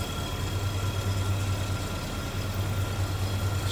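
A 1985 Oldsmobile Toronado with its 307 cubic inch, 5-liter V8 idling smoothly, a steady low drone with constant hum and no change in speed, recorded close with no talking.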